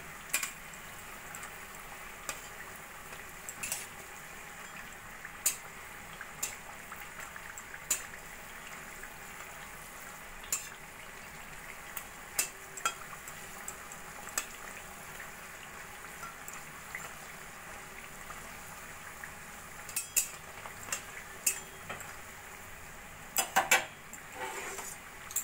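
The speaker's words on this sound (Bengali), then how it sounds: "এইভাবে আস্তে আস্তে নাড়া দিয়ে দিয়ে সোনালি করে আমি চিপসগুলো ভেজে তুলব।" Potato chips frying in oil, a low steady bubbling hiss with scattered clinks and scrapes of a utensil stirring in the pan, close but fairly quiet and without talk.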